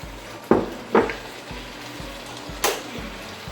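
Eggs hit a hot pan for pad thai, letting out a few sharp bursts of sizzling over a steady low frying hiss, with low hum in the background.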